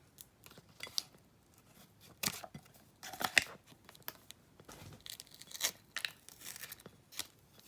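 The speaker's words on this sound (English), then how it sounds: "Take some scissors and cut your backing." Scissors cut through the backing paper of adhesive vinyl in short, crisp snips and rustles. The cuts come in uneven bursts, close and fairly quiet, with no voices.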